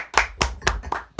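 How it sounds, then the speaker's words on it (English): A few sharp, close hand claps in a podcast studio, spaced about a quarter second apart in an even rhythm, loud and alone with no voices. "Round of applause."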